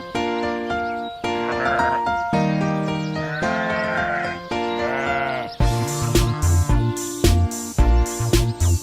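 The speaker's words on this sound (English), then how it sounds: "And on his farm he had a horse" A horse neighs in a nursery song about a farm, several loud, quavering whinnies over bright music, followed by rhythmic hoof-like clip-clop beats, with no speech.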